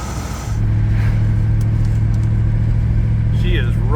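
A 1977 Pontiac Bonneville drives along with a steady, loud low engine drone and road rumble heard from inside the cabin.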